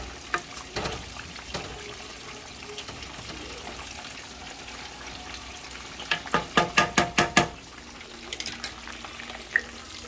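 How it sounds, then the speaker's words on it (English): Food simmers in a pan as water cooks off, a soft continuous sizzle under a quick run of close metallic clinks from stirring, with a few scattered taps before and after. "I just let them simmer until a little bit more of that water evaporate off of them"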